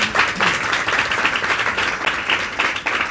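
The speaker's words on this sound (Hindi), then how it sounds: "जोरदार तालियां बजा रही" Loud, dense applause from a church congregation fills the space steadily, a sustained wash of many hands clapping with slight swells and no pauses.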